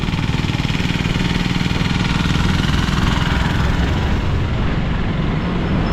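A motorcycle engine drones steadily during a ride, a loud, close, continuous rumble with a fast, even pulse and wind noise, with no talk.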